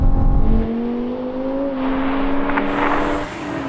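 A BMW M5 V10 Touring accelerating hard, its engine note climbing steadily, then dipping and rising again through a gear change, loud and continuous with rushing wind noise, no talk.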